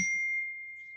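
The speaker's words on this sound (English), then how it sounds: "my phone dinged" A phone notification ding rings out as one clear, sustained tone that decays slowly over about a second, heard alone in a quiet room during an online class.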